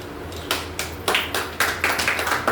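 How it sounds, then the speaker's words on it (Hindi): A group of people claps in bursts of applause to welcome a woman at a business income meeting. The claps rise in several uneven waves over a low steady hum, with no one speaking. "जोरदार तालियों से स्वागत कीजिए मैडम का।"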